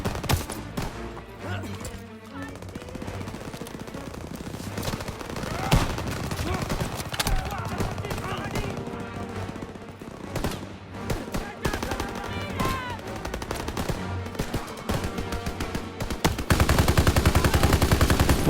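Gunfire rages through a Call of Duty level set during the liberation of Paris: dense, loud, continuous automatic bursts and rapid shots mixed with game battle noise, growing heavier toward the end.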